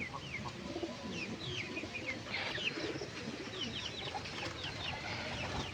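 Domestic pigeon cooing close by in repeated soft, throaty coos over a constant outdoor background hum, with no talking.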